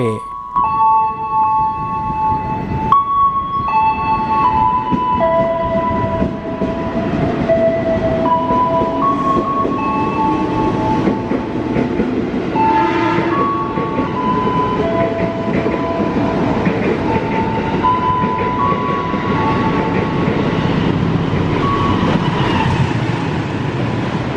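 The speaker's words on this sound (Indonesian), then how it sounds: "tak lama lagi akan segera melintas kereta api Gajah Wong 106B" A Gajah Wong 106B passenger train passes Cibitung station with a loud, steady rumble and wheel clatter lasting throughout, overlaid by sustained horn-like tones near the start.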